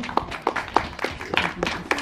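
Scattered applause from a cadet corps event audience, a handful of separate claps at uneven intervals, close and moderately loud, briefly over a voice.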